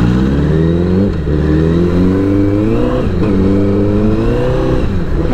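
A motorcycle's exhaust revs loud and close in traffic on a hot day, with the engine note rising and falling in steady pulls and no talking over it.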